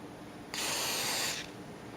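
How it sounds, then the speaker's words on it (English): A single steady spray hiss from an aerosol can of Corrosion-X cleaner onto Smith & Wesson M&P 45 pistol parts, lasting about a second, close to the mic, against a quiet background. "I will spray them down with my cleaner"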